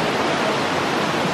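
A river rushes loudly and close by, a dense continuous roar of flowing water with no break, heard alone.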